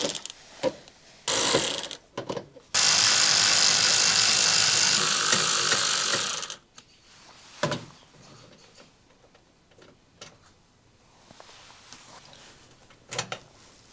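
Power driver working on a 2020-or-later Chevrolet Silverado 2500HD to remove the mud flap clips, giving a few short whirring bursts and then one loud sustained run of about four seconds, followed by faint clicks and handling noises.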